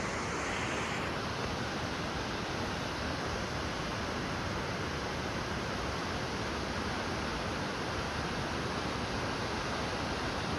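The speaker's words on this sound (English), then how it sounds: "This is quite the waterfall." A waterfall near the Gorge Dam parking lot, its rushing water a steady, dense broadband roar that stays constant and close, with no voices.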